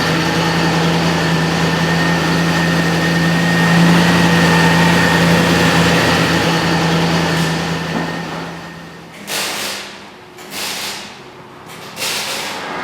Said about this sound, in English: This is the infamous Triumph Stag engine